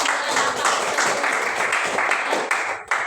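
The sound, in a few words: applause for a class group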